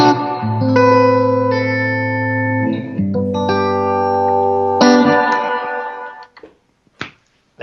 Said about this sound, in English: it's a spring type reverb.